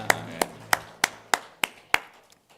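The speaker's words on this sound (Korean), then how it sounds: "우리 모든 영광 하나님께 박수를 드리도록 하겠습니다." Seven sharp, evenly spaced claps ring out at a steady beat in a church during a Sunday worship service, each crisp hit fading before the next, with a faint low hum underneath.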